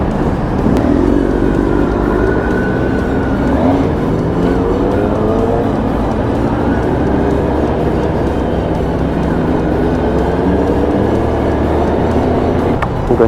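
A large group of Kawasaki ZX10 sport motorcycles, including anniversary editions, rides at night outside Dubai, their engines droning loudly and continuously with overlapping revs and a steady roar close by.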